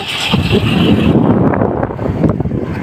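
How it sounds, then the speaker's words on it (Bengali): Strong wind gusts across a rooftop as rain approaches under a darkening sky, a loud continuous roar buffeting the microphone throughout. "আর প্রচুর বাতাস তাদের ছাদে।"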